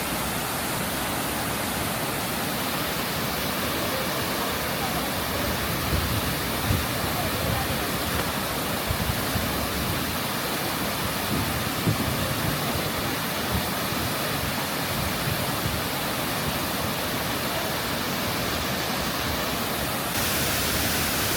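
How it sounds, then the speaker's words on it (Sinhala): Bopath Ella waterfall in Sri Lanka pours in a steady, dense roar of falling water that fills the whole stretch at close range, loud and unbroken, with faint voices now and then underneath. "අපි දැන් ඉන්නේ ඇල්ල ළඟටම ඇවිල්ලා"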